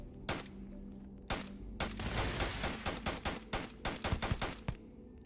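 Gunfire in the sci-fi game Starfield, with a few separate shots followed by rapid bursts of close, loud gunfire that stutter and trail off.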